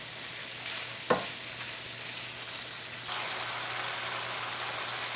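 Sausage and tomatoes sauté in a pan, giving a steady, fairly loud sizzle with one sharp utensil clink early on. The frying grows slightly denser partway through, and no one speaks.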